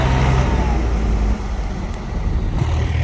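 Heavy diesel engine of a JCB excavator working alongside a tractor during a rescue of the stuck tractor, a loud steady low rumble that dips briefly midway and then picks back up.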